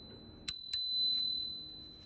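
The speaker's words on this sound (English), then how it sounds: "You've got your bell." Two quick bell strikes from the handlebar bell of a Macwheel MX Pro electric scooter, close and clear over a faint background hum, with the second ring's tone lingering briefly.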